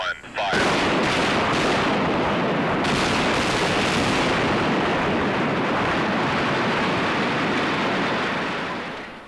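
Heavy gunfire or artillery firing erupts after a short burst of sound, a loud dense roar that holds steady for several seconds before slowly fading.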